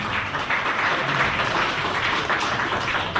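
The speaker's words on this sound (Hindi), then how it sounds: "मैं आप लोगों से चाहूंगा कि आप लोग तालियों की गड़गड़ाहट से उनका स्वागत करें।" Guests at a retirement farewell party applaud in a thick, continuous burst of clapping that holds at an even level from start to finish.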